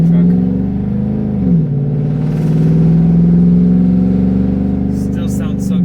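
A Toyota Tundra pickup truck engine drones steadily from inside the cab, its pitch dipping briefly before settling into a sustained hum as the truck pulls along.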